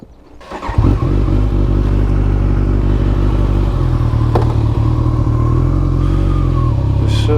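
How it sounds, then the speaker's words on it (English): Kawasaki ZZR1400 motorcycle on the move, its engine droning steadily and loudly after a short quiet start, with a continuous low rumble, a brief clatter midway and wind noise toward the end. "let's jump on the bike, let's go for a ride"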